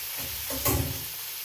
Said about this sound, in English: So I'm going to drain my potatoes.